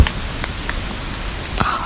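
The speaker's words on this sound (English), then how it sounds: "Oh, it's starting to rain again." Steady rain falls outdoors by a lake at night, a continuous broadband hiss with a few louder drops or taps standing out, moderately near, with no voices.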